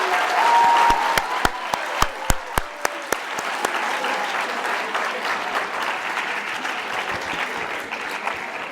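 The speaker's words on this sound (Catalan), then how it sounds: "m'agradaria un fort aplaudiment per als vostres companys i companyes" An audience at a youth science and ethics event applauds student spokespeople, a few sharp, close claps at the start giving way to a sustained, even round of clapping that slowly fades.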